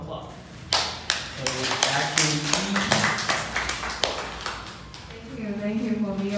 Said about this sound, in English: let's get started a lot of round of applause